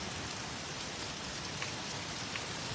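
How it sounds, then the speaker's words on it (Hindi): Steady heavy rain pours down onto the ground in Ajmer in a dense, even hiss, with occasional louder drops standing out against the constant wash. "बारिश की बूंदें ज़मीन पर गिर रही है, उसकी आवाज़ भी आपको आ रही होगी"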